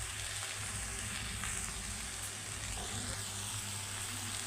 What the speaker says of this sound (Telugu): బీన్స్ వేసుకున్నాక మంచిగా ఫ్రై అవ్వాలి.